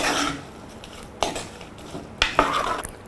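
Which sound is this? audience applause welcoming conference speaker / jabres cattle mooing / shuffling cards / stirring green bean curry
stirring green bean curry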